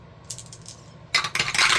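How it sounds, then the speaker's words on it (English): Five dice tumbling and clattering onto a hard surface, a brief rattle followed by a louder burst of bouncing clicks, close and alone. "let's go ahead and roll our 5 dice"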